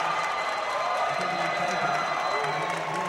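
Fired-up BYU crowd at a men's college volleyball match against Loyola, a steady wash of cheering and applause with scattered whoops and voices, loud and continuous.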